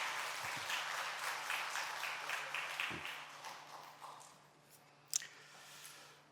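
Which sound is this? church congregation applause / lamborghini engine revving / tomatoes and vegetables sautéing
church congregation applause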